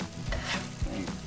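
A crab, tomato, chili and garlic mix hisses in an oiled saucepan, a brief loud close sizzle with a couple of stirring scrapes.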